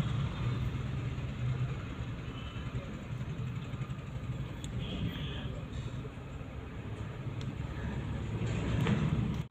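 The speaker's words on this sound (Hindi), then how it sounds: "ये जा रहा ट्रैक्टर" A tractor drives past on a road on a hot, sunny day, its engine a low, continuous rumble that swells slightly toward the end, amid outdoor background noise.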